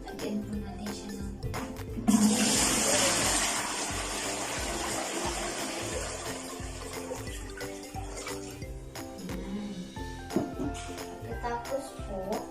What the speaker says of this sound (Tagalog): ilalagay na po muna natin itong tubig